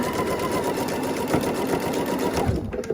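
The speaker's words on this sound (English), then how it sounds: "You only need to start sewing right where this fabric begins or a little bit ahead of it" A sewing machine stitches fabric while piecing flying geese quilt blocks, a fast, steady mechanical whirring that runs continuously and close before slowing and stopping near the end.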